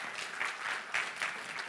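A crowd at a game pitch event claps steadily, dense applause with slight swells in intensity.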